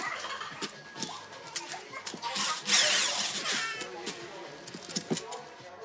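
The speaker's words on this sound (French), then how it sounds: "Utilisé avec une visseuse, il vous évitera le vissage très laborieux à la main." Cordless screwdriver driving screws through a cut-down 7 mm socket wrench while mounting parts on an RC model body, an uneven motor whine rising and falling with small clicks, while a person talks over it.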